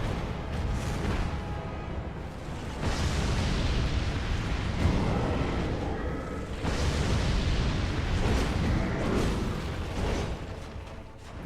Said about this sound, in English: The explosion covered the whole screen.